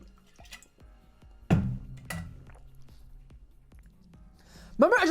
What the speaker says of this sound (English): I'm gonna drink some water for this one